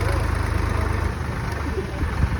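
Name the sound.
tractor engine running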